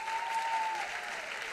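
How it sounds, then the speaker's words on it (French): Applause from the audience at an awards ceremony, a dense, steady patter of many hands clapping at a moderate level, with no voices over it. "On peut les applaudir."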